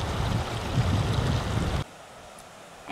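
Cold mountain stream water rushes in a steady, loud, close wash for nearly two seconds, then cuts abruptly to a much quieter background.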